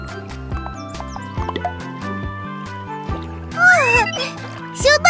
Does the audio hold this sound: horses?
yes